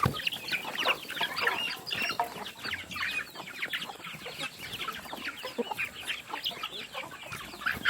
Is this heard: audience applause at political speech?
no